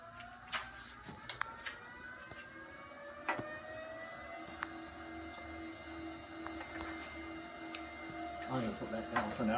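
A wood lathe motor spins up slowly during a woodturning club demo, its faint whine climbing steadily in pitch, with scattered clicks and a low background hum.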